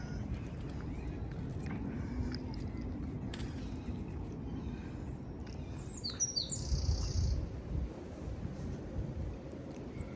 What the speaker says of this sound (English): Hear the birds. I love bird song.